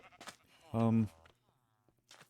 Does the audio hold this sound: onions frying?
no